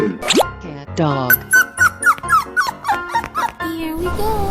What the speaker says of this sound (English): Cat. Dog.